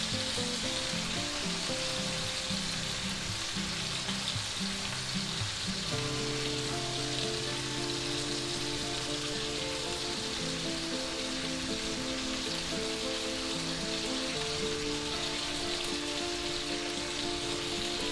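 A London broil steak sizzles steadily and loudly in a hot pan as it is basted with butter, a dense, continuous crackle with some spoon movement, under background music.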